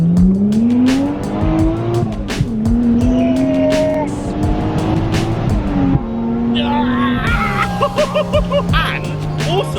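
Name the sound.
Toyota-engined Ford Escort MK2 exhaust pop while driving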